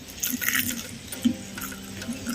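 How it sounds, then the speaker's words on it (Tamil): Ice-cold water poured from a cup into a mixer grinder jar, a short splashing fill with a brief gurgle, close and fairly loud, no talking. "ஐஸ் தண்ணி வந்து ஒரு கப்பு வந்து சேர்த்துக்கிற போகிறோம்"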